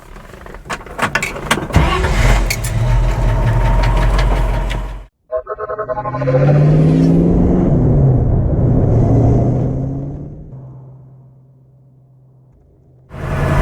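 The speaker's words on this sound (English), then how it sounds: "Let's go for a drive and I'll give you an update on everything I've done to my 66 Mustang" A 1966 Ford Mustang Fastback engine idles and runs close by in a steady, loud rumble, broken by a short gap and a brief whirring sound. The note fades near the end, then comes back at full level.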